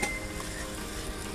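Mutton pieces sizzle steadily in a hot pan while being cooked down at an outdoor family picnic, a continuous close frying crackle with faint stirring and a light metallic clink, no talking.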